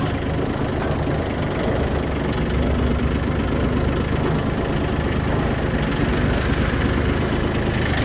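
A small Japanese Yanmar F15D 15 hp tractor fitted with a rotary tiller idles steadily, a continuous low, even engine chug heard up close with no talk.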